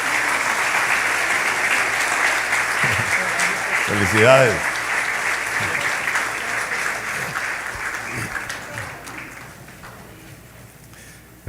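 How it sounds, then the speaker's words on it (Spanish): Church congregation applauding during a Sunday service, sustained clapping through most of the clip, with someone speaking briefly over it before the applause gradually tapers off. "denle un aplauso a nuestro Dios"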